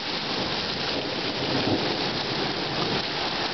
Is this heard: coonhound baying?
no